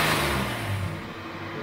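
A 1994 Nissan Pathfinder engine revs up to around 2000 RPM, a steady mid-range drone that is loud and close at first and eases off slightly toward the end.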